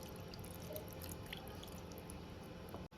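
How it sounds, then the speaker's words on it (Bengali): Rinse water from a washing bowl is poured a little at a time over a steamed snakehead fish dish, a steady close trickle and dripping with no talk. "তো এই যে এবার গামলা ধোয়া জলটা আমি দিয়ে দিচ্ছি সামান্য।"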